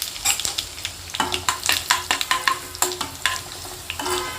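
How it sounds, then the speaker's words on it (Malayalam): Six dried red chillies hit hot oil with popped mustard seeds for garlic pickle, crackling and spitting in quick bursts over stirring scrapes, close and lively with no talk. "കടുക് പൊട്ടിക്കഴിയുമ്പോൾ നമുക്ക് 6 വറ്റൽമുളക് ഇട്ട് കൊടുക്കാം"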